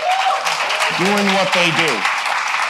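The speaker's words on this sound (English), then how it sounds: "let's give them a round of applause" Audience applauding three women CEOs of tech companies at a conversation event, a steady broad wash of clapping running under someone speaking throughout.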